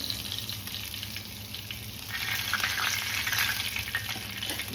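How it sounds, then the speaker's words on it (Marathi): Pomfret fish frying on a tawa, an even crackling sizzle that grows louder partway through, close up and alone without any talking. "जसा हा फ्राय केला आहे तसंच आपण हे पण फ्राय करून घेतो"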